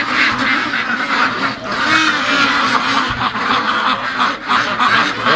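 Free-range Muscovy ducks call and quack outdoors near a swamp, a busy overlapping chorus of loud, close, breathy quacks and honks that carries on without a break and with no voices.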